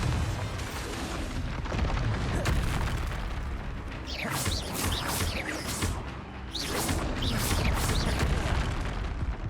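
The Confringo blasting spell in the video game Hogwarts Legacy sets off repeated booming explosions. They come as loud, heavy blasts with whooshing bursts and rumbling debris, several detonations crowding close together during combat.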